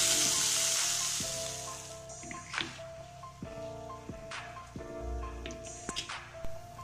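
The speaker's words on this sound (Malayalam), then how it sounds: "ഇവയെല്ലാം ഒരുമിച്ച് എണ്ണ ഇട്ട് കൊടുത്ത് നമുക്ക് നന്നായിട്ട് ഇളക്കി വേവിപ്പിക്കാം." Onions, curry leaves, ginger garlic paste and green chilies sizzle in hot oil in a pan for squid biriyani. A loud steady hiss is broken by scraping stirs and occasional taps of the spoon.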